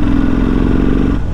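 Kawasaki VN1500 cruiser engine revving as the throttle opens, a loud, close, throaty drone with a pulsing low rumble that holds steady and then shifts briefly near the end.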